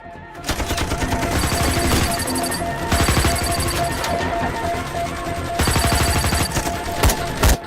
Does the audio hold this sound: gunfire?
yes